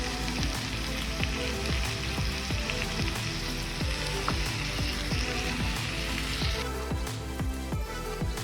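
Chopped onions frying in a hot pan for South Indian curd rice, a steady bright sizzle with scattered pops and crackles running continuously, close and fairly loud with no talking.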